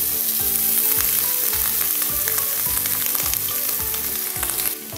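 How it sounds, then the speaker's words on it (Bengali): Grated coconut sizzles loudly in hot oil in a pan after panch phoron and fennel seeds, a dense continuous frying crackle with rhythmic stirring scrapes throughout and no voices. "নারকেলটা 2 মিনিট মতো ভাজব।"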